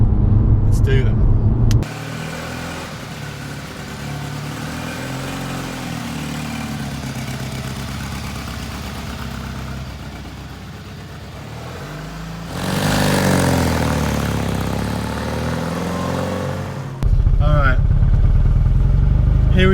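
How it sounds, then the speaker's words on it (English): A 1972 Abarth 695 small car engine runs steadily while driving, a buzzing mid-pitched drone throughout, rising in revs and loudness near the end; voices talk over it at points. "Driving a 1972 Abarth 695."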